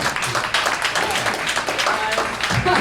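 A live comedy show audience breaks into scattered applause while voices talk over it.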